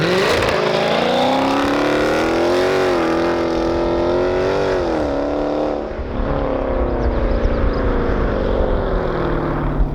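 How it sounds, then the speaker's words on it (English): A Dodge Challenger ScatPack V8 held on launch control roars at high revs, the pitch wavering and dipping briefly before holding steady, loud and close throughout with no voices. "To launch, press brake and quickly apply full throttle."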